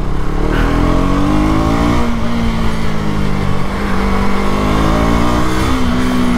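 A KTM Duke 250 motorcycle engine accelerates up close, its loud, buzzy drone rising in pitch through the gears. Short dips and climbs mark the shifts, and no one speaks.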